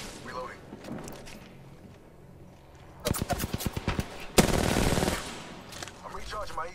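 Automatic gunfire in the video game Apex Legends rattles out in rapid bursts, with a dense volley in the middle and scattered shots around it, loud over quieter game ambience.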